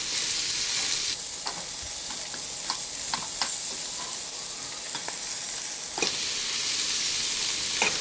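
Chicken pieces sizzle steadily in a frying pan, a constant hiss with a few soft clicks and scrapes as they are flipped over.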